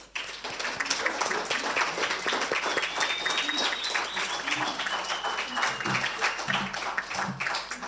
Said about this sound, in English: A round of applause for the Tech Optics.